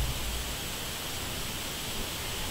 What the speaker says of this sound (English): the noise you hear is the wind blowing through the leaves in the trees